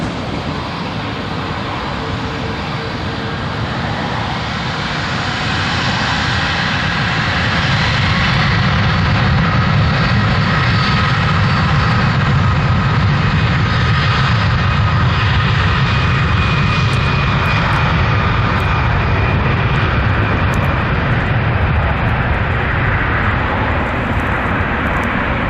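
A Virgin Atlantic Airbus A340-600 jet takes off from runway 27 left, its engines a loud continuous roar that swells over the first several seconds and then holds steady and heavy throughout.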